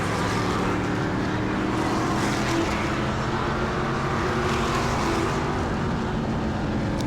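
Race cars in a heat race at New Smyrna Speedway roar past continuously, engines droning loud and steady as the field circles the track.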